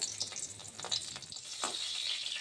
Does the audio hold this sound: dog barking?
no